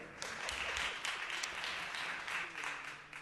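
Applause breaks out at a city Board of Supervisors meeting in a large hearing chamber, a crowd clapping in an uneven, rolling patter with a few sharper claps, at moderate distance.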